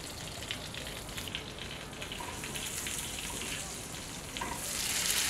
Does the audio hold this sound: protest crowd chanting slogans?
no